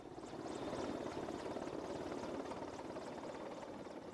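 A helicopter powered by a turboshaft jet engine that turns the rotor blades, heard as a steady, rhythmic rotor chop with an even engine roar throughout.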